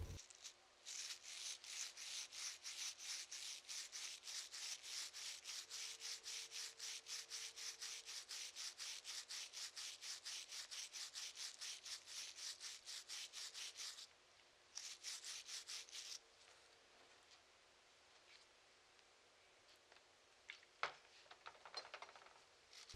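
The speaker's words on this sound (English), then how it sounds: "we'll use a 12-gauge shotgun brush to get the inside of the baffle spacer." A 12-gauge shotgun brush scrubs rapidly back and forth inside the lead-fouled baffle spacer of a Warlock II suppressor, a quick rhythmic run of gritty strokes that pauses briefly, resumes, then trails off into faint handling clicks.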